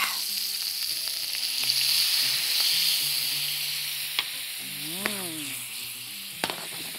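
Sausage sizzles steadily in a frying pan with apple cider vinegar, a close, continuous crackle with a few sharper pops and spits near the end.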